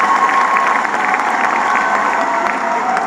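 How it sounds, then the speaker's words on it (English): An audience at a work presentation applauds and cheers, loud and steady throughout the few seconds, with a crowd murmur underneath the clapping. "a big round of applause to everybody"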